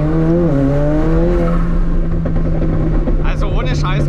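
A McLaren 765LT sports car tuned to 1100 hp, its engine droning loud and close with a steady low tone and shifting higher harmonics, while someone talks over it.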